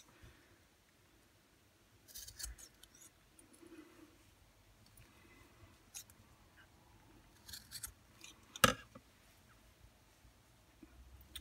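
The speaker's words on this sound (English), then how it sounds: "And then we need to cut off the ends of the fingers here" Scissors snipping knitted fabric on a doll-sized jumper, cutting off the finger ends, heard as a few quiet, scattered cuts with one sharper snip and no talking.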